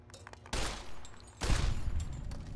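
Bursts of rapid gunfire in Fallout: New Vegas (Tale of Two Wastelands) crackle in two clusters, the second louder and more sustained, with a low rumble underneath.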